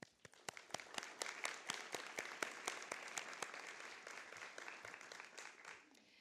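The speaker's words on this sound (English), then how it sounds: "Give yourselves a round of applause" A small gathering at a school board meeting claps for tenure recipients, with distinct individual claps spaced out and fairly faint, tapering off toward the end.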